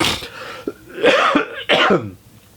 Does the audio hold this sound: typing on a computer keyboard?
no